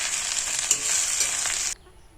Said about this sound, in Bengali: পাতাকপিগুলো আলুর সঙ্গে ভালো করে মিশিয়ে দেবো